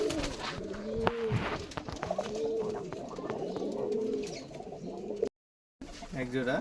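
Two male white Giribaz pigeons coo in repeated low, rolling calls close by, with a voice heard faintly in the background.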